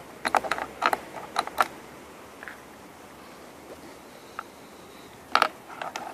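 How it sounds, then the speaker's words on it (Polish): Original screws are unscrewed on a Kymco Downtown 300i ABS scooter to fit a Givi E450 top box: a few sharp metallic ratchet clicks in short bursts, close and clear, separated by near-silence. "Oryginalne śruby, czyli te, trzeba wykręcić."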